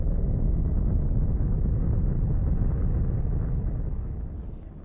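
Steady deep roar of a spaceship engine in the space game X4 Foundations, a dense low rumble with faint airy hiss that holds level and fades slightly near the end, no voices.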